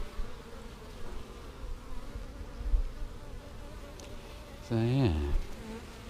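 A swarm of bees buzzes steadily around hives on a hillside, a low continuous drone with a louder, closer insect hum rising near the end, and a voice speaks briefly.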